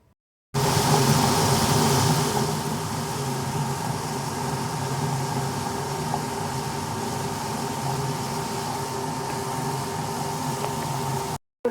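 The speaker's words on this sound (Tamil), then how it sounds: "கிரைண்டரில் போட்டு முதல்ல அரிசி அரைச்சிக்கலாம்" A wet grinder grinds rice in a home kitchen, a steady motor hum with a constant low churning rumble that starts abruptly and runs evenly for about eleven seconds before cutting off.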